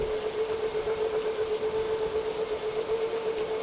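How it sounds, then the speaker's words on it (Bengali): Steady rain falls during a ride in a toto electric rickshaw, a dense, even patter throughout, accompanied by a constant tonal hum. "কিছুক্ষণের মধ্যেই শুরু হলো বৃষ্টি"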